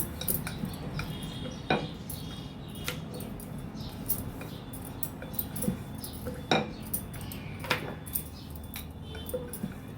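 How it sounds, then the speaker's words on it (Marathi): Moong dal puran poli rolled thin with a rolling pin in a home kitchen, giving soft scattered clicks and knocks of the pin against the board at an irregular rhythm, close and fairly quiet with no talking. "मी ही पातळशी पोळी लाटून घेणार आहे"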